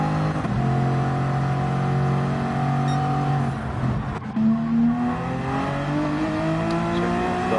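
A Porsche Cayman engine in a racing game revs loud and close, a smooth harmonic drone holding steady, dipping briefly as it shifts, then climbing again in pitch.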